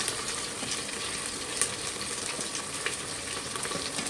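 Green chillies and peas hit hot oil in a pan while tempering a rustic village-style khichdi, giving a steady, dense sizzle and crackle that runs evenly throughout with no talking.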